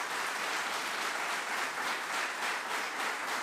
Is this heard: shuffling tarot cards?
no